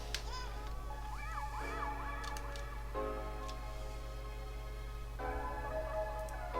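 An ultrasonic cleaner switches on with vape tanks inside, giving off odd warbling, sweeping electronic tones over a steady low hum. It sounds loud and close, with no talking.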